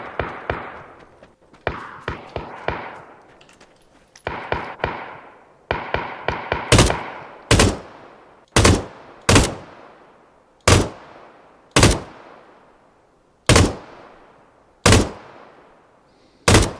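Gunfire in the battle royale game Fortnite, early clusters of quick shots followed by a slow, evenly spaced series of single loud, sharp reports with echoing tails, near and unaccompanied by talk.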